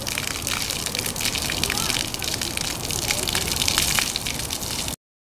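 Water pressure gushes and sputters out of a garden hose, a loud, continuous close hiss and splash that stops abruptly near the end.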